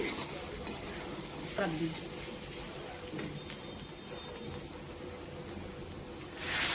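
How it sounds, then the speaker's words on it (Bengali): Fried potatoes and chickpeas sautéing and being stirred in a pan, a steady close sizzle with light scraping throughout and no talking. "আলুগুলো দেওয়ার পরও কিন্তু দু মিনিটের মতো কষিয়ে নিচ্ছি"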